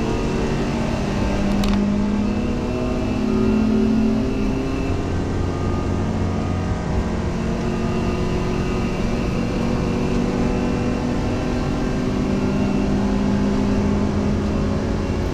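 A BMW racing car powers up a hill against a rival, engine droning loud and close in a continuous, steady roar without pause.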